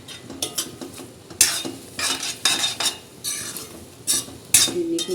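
A spoon stirs sugar into cooked seviyan (vermicelli) in a metal pot, giving repeated scraping clinks and soft rattles in irregular bursts, close and moderately loud, with no talk.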